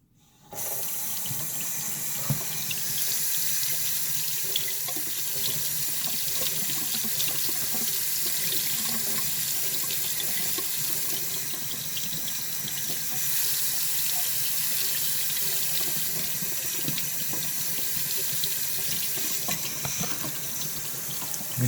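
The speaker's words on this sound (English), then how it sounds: "And rinse this foam out, put it back in." Tap water runs steadily into a sink as aquarium filter foam is rinsed, a continuous close hiss and splash that starts abruptly and carries on unbroken, with no voices.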